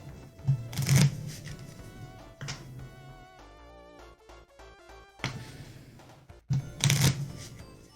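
Cards for the Horizon Zero Dawn board game being shuffled, two bursts of quick riffling ripples near the start and end, close and crisp, with a quieter stretch in between.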